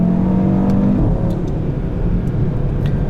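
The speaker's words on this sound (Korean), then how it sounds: "배기 소리도 굉장히 좋습니다." An Audi RS3 with its 400-horsepower five-cylinder engine and seven-speed dual-clutch gearbox roars loudly as it accelerates, its exhaust note droning steadily and shifting in pitch about a second in.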